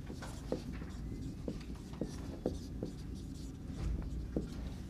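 Chalk or marker taps and scratches against a board during a lecture on NMR spectroscopy, a series of sharp irregular strokes over a quiet room hum, with no speech.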